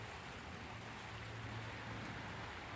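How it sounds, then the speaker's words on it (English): Steady rain falls outdoors during a thunderstorm, a constant soft hiss of drops with a low rumble underneath, continuous and even throughout. "See, it is raining."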